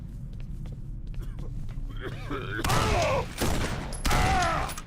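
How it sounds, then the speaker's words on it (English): Bursts of gunfire from an enemy shooting in Condemned: Criminal Origins, scattered faint shots and footsteps at first, then two loud, sustained volleys close by in the second half. "He's still over there shooting."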